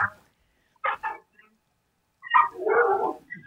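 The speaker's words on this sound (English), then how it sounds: "Tell her my dog is going nuts." A dog barks in short, separate bursts indoors at moderate distance, one quick pair followed after a pause by a longer, rougher run of barks with some whimpering, with no talking over it.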